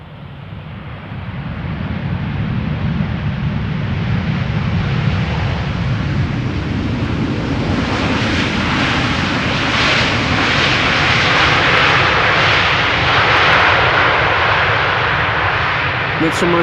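An airliner lands at Amsterdam Schiphol. A loud, broad jet roar builds and stays strong throughout, with a brighter rushing surge in the later half that fits thrust reversers. A faint voice sits under the noise.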